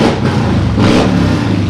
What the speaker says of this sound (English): Yeah, motorcycles.